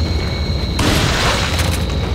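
A shotgun blast from the video game Resident Evil 4 lands as a sudden loud broadband boom over a low rumbling game background, its noisy tail lingering for over a second.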